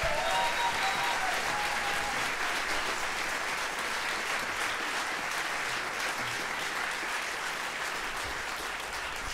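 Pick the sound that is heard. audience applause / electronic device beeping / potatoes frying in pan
audience applause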